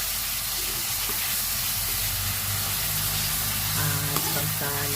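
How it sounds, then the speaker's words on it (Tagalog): Vegetables sautéing and being stirred in a pan for a fish and vegetable soup, a steady close sizzle and hiss with occasional scraping of the spoon, no talking. "Igisa lang natin hanggang sa lumambot."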